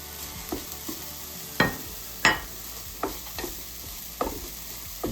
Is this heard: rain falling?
no